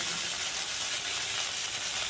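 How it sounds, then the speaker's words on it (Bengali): Cut squash and potato hit a pan of fried black cumin seeds, setting off a steady, hissing sizzle that stays close and even throughout with no talking. "কালো জিরেটা ভাজা ভাজা হয়ে যাওয়ার পর কেটে রাখা স্কোয়াশ আলু দিয়ে দিলাম।"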